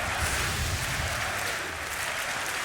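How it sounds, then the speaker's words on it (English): In an esports arena at a DreamHack Masters Counter-Strike match, a large crowd roars and claps for NIP, making a dense, continuous wash of cheering and applause with no talk over it. "Crowd getting behind NIP again."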